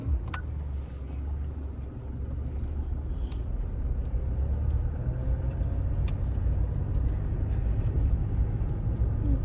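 A steady low road rumble and tire hum from a vehicle on Linglong Crosswind 285/75 R16 mud-terrain tires, continuous and fairly even, with faint knocks and rattles on top.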